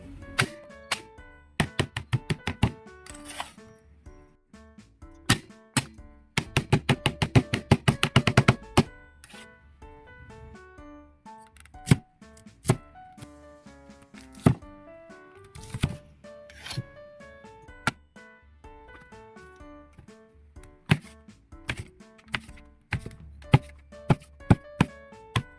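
Garlic being chopped with a knife on a cutting board: sharp, close taps in irregular runs, including a fast rapid flurry of strokes, with quiet pauses between bursts and no talking.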